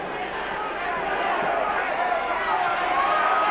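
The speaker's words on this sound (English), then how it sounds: "the huge crowd starting to roar, Kiwi, Kiwi" A huge rugby league crowd at a 1988 New Zealand versus Great Britain match, roaring in a dense, sustained wall of noise that swells slightly, with chanting of the home side's name blended into the din.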